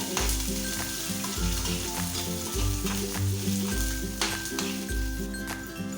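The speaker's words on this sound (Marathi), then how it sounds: "मी दहा बारा लसणाच्या पाकळ्या व एक इंच कांदा वापरून घेतलेला आहे आणि आपल्याला लसूण छान भाजून घ्यायचा" Ten or twelve garlic cloves and a piece of onion roast and sizzle in a pan, with a continuous loud frying crackle and regular scraping stirs.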